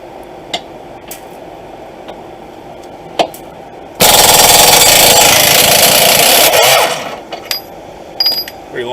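An impact wrench on a 17mm lower control arm bolt of a 2007 Honda Civic gives one loud, close, continuous hammering burst lasting about three seconds. Faint clanks come before and after it.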